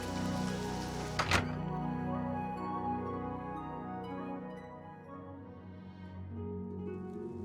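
Rain in the video game Oblivion Remastered, a soft steady patter under a sustained tonal musical bed, with one brief sharp knock early on and no voices.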